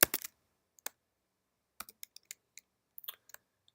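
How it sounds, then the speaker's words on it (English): Close computer keyboard typing while entering a short line of code, an opening burst of rapid clicks followed by scattered individual keystrokes with pauses between them, with no talking. "I'm just going to type in a classic hello world"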